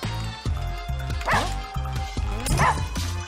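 Repeated short, sharp dog barks and yips from the Russian Subway Dogs video game, coming in quick bursts over a steady, looping game soundtrack, loud and close.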